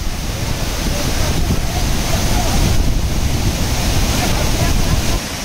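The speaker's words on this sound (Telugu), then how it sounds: "ఇప్పుడు మనం దాటింది ఈ జలపాతాన్నే" A large, powerful waterfall on the Shrikhand Mahadev Kailash trek thunders close by as a loud, dense roar with some wind buffeting the microphone, easing slightly at the end.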